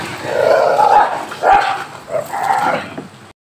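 Pitbull attacking another dog, with loud close growling barks and yelps in several bursts, interspersed with whimpering cries, fairly continuous and harsh.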